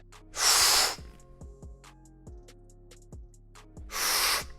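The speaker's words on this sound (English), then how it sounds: "Deep breath in, hold it, and then drive it up" Two loud, forceful breaths close to the mic mark a lifter's deep inhale before a bench press rep, one near the start and one near the end, with quieter low tones between them.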